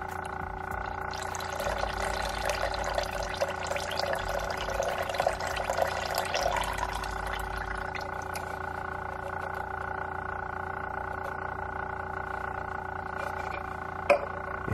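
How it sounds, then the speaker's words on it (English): Stabilizer is poured from a 2-ounce bottle into 30 ounces of distilled water for color film developing, a soft trickling pour for several seconds that then fades to a quiet background hum. "We're going to pour in our 2-ounce bottle of stabilizer."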